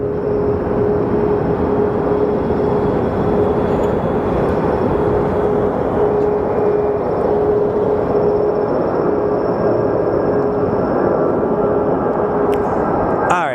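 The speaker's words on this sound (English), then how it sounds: "Let's get you airborne, 787." A Boeing 787 airliner taking off at Phoenix Sky Harbor Airport, heard as a steady, loud, continuous jet engine roar that holds at a constant level throughout, broad and rumbling with a faint whine on top.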